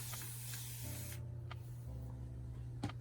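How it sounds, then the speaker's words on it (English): Several short hissing bursts from a spray bottle spraying water onto hair, close by, over a steady low hum. "I'll spray some water on it."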